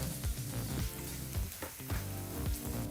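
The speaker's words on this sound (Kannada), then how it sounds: "ಈರುಳ್ಳಿನ ಮೀಡಿಯಂ ಫ್ಲೇಮ್ನಲ್ಲೇ ಫ್ರೈ ಮಾಡಿಕೊಂಡ್ರೆ ಸಾಕಾಗುತ್ತೆ" Chopped onion fries over medium flame in oil with fennel and kasuri methi for a gravy, a continuous close sizzle with occasional stirring swells, and no voices.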